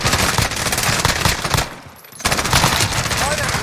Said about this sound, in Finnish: Mistä ne ampuu?